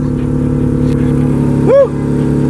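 A car engine idles steadily with a low, even hum after an OBX headers install, close by and loud, with a brief voice rising over it near the end.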